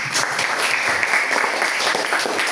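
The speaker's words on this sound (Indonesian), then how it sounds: "Kita tepuk tangan dulu untuk Angel." Audience applause at a school guidance session fills the whole short stretch, a steady dense patter of many hands clapping together with no voices over it.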